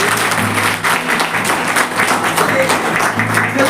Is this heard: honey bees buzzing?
no